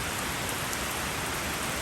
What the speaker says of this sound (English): it's raining, so I'm giving the car a little wash off in the rain